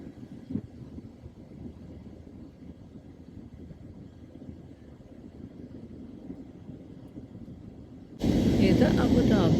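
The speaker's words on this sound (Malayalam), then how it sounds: "നമ്മുടെ ഫ്ലൈറ്റ് താഴേക്ക് ഇറങ്ങിക്കൊണ്ടിരിക്കുന്നു." Inside an airliner descending to land at Abu Dhabi, a steady low cabin roar of engines and airflow drones on quietly before louder wind-like noise and a voice cut in at the end.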